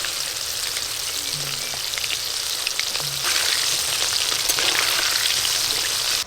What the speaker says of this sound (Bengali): এই দেখুন একদম KFC স্টাইলে চিকেন পকোড়া হচ্ছে।